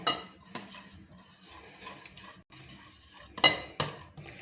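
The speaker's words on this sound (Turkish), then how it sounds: "Ve bunları yavaştan çırpmam lazım." Metal whisk clinking and scraping against a bowl in steady strokes, whisking a sauce mixture for soaking stale bread before frying, with a couple of sharper knocks near the end; no voices.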